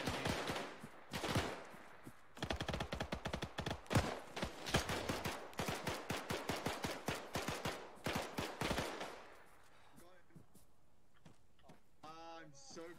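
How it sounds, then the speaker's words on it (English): A machine gun in a military video game fires in rapid, loud bursts of sharp shots, joined by distant gunfire and brief pauses, with players talking over the radio. "There's an MG over here"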